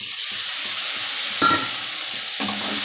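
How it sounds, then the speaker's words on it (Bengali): Potatoes and shrimp with ginger-garlic paste and spices sauté in a pan, a steady bright sizzle broken by two louder stirring scrapes, with no voices. "ভালো করে আলুটা কষে নেব।"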